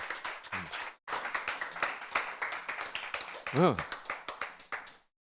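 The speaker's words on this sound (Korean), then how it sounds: "박수." Rhythmic hand clapping continues for several seconds, with a voice speaking briefly over it.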